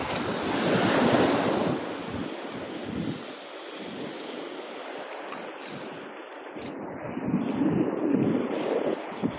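Sea waves washing onto a beach, heavy surf swells rising and easing close by, mixed with gusts of wind buffeting the microphone.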